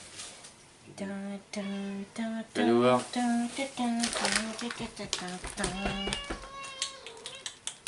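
A displeased female cat meows indoors in a string of several close, drawn-out, tonal cries with short pauses between them, fairly loud and near.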